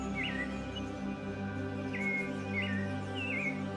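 Several short whistled phrases of a clay-colored thrush sound at a moderate distance in Monteverde cloud forest, Costa Rica, over a steady background hum, with brief pauses between the melodic bursts.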